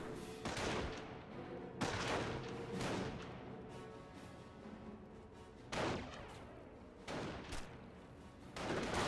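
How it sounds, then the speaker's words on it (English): Company of Heroes 1 battle with airborne infantry under small-arms fire: repeated crackling volleys and heavier booming bursts at mixed distances over a dense, continuous battle din. "Taking small fire here. Repairs on a 223. Airborne ready. Airborne squad takes some shots."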